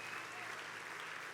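A church congregation claps together in a steady, dense wash of applause that sounds somewhat distant and fills the whole moment without a break.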